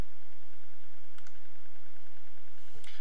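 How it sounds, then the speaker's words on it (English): A computer mouse clicks twice to open a folder, the two short clicks spaced over a second apart against a loud, steady electrical hum. "Next, I'll click on the ScriptE data folder."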